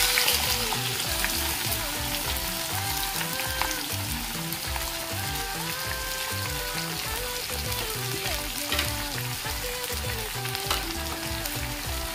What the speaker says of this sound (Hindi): इसके तुरंत बाद डालेंगे इसमें कटे हुए सारे प्याज।